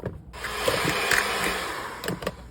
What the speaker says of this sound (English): I'm going to cream these together with my hand mixer here